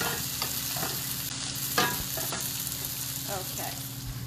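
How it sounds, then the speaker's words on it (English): Onions fry with a bay leaf tucked underneath in a pan, giving a steady close sizzle broken by a few scraping stirs. "we're going to stir the onions while we're over here on this side of the room"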